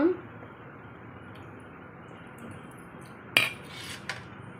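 Red onion chutney mixed with salt in a bowl, heard as soft, wet squishing, with a sharp utensil clink near the middle and a lighter tap just after it.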